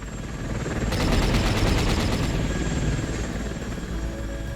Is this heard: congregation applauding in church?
no